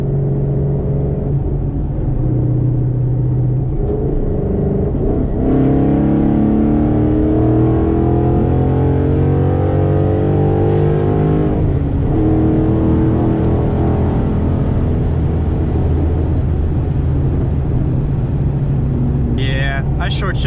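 Ford Mustang GT 5.0 with a Lund Racing tune and ghost cam, its engine roaring loudly as it revs and accelerates hard through the gears, a deep continuous rumble that swells and drops between shifts.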